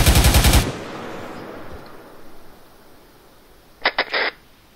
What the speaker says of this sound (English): Continue firing.